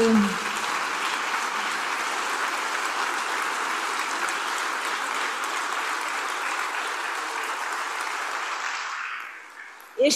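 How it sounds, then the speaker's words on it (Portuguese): Sustained applause from a large audience at the WorldSkills commemorative opening ceremony, steady for several seconds before fading out, with a brief voice at the very start and end. "Eu acho que merece um aplauso este"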